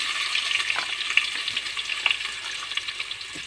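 Onions sizzling and frying in a hot pan, a steady crackling hiss with scattered pops and spits, close and fairly loud, with no talking.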